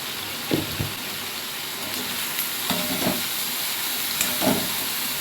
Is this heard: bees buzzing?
no